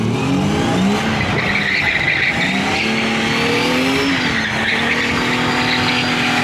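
An old restored car, launched hard in first gear without the clutch, revs loudly as its tyres squeal in a sustained screech that rises and shifts in pitch, heard up close throughout.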